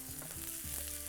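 Onion fries on a tawa while making chicken tawa pulao, a faint short sizzle with a couple of soft spatula scrapes against the griddle.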